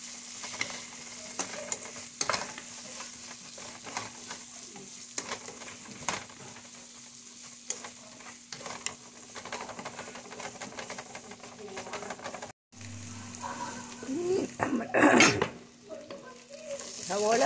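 Vegetables sautéing in a pan until wilted, with green chillies added, give a steady close sizzle and frying crackle with occasional stirring scrapes; a brief quiet gap comes before louder stirring near the end.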